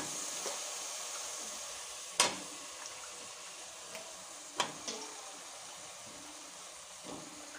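Oil hisses and sizzles steadily in a pan as washed, long-cut eggplant pieces cook for a vegetable thali, with a few sharp clinks of a spoon stirring against the pan.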